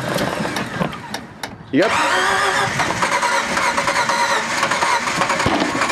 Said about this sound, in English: It's backfiring.